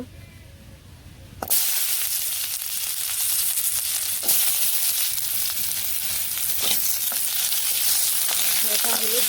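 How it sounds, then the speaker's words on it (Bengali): Potatoes dropped into hot oil, an abrupt loud sizzle that bursts in and then holds as a steady, close, bright hiss with occasional crackles. "এখন আর কি আলু দিয়ে দিই প্রথমে আমি আর কি আলু ভেজে নিব"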